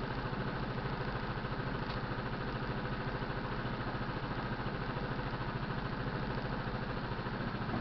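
A Kymco Grand Dink scooter engine idles cold and steadily with an even, low putter, constant in loudness throughout and with no one speaking.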